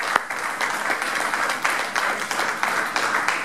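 Applause from a Pentecostal church congregation at a Resurrection service, many hands clapping in a steady, slightly rhythmic pattern, moderately loud and filling the room without speech.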